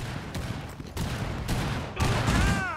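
Cluster charge detonating in Rainbow Six Siege, a series of four sharp, roughly evenly spaced blasts in under three seconds, the last one louder with ringing debris afterward.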